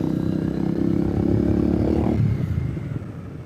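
A 2014 Triumph Speedmaster motorcycle engine runs loud and steady, then the note drops and fades as the bike slows under hard rear braking.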